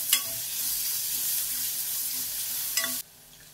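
Onions sizzling in hot oil with ginger-garlic paste, a steady close hiss of frying with a couple of sharp utensil clinks, cutting off abruptly near the end.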